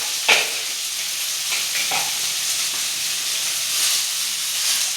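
Roasted ingredients for a mutton curry sizzle steadily in a hot pan, with scraping stirs now and then. The frying is close and continuous, with no talk.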